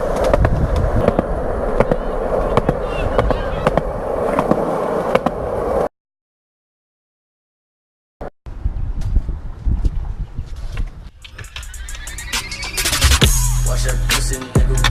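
A skateboard cruising down a road near a beach, its wheels giving a steady, rough rolling roar, then a sudden cut to silence of about two seconds before the rumble picks up again, joined by scattered clacks.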